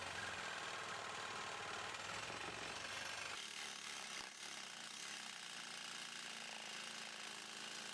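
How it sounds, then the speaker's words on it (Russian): A hand saw cuts carefully through a piece of brown tusk in a workshop, a steady rasping scrape that continues close and constant, shifting to a slightly lower, duller stroke partway through, with no one speaking. "Поэтому пилим осторожно и пытаемся постоянно расширять рез такими двойными запилами."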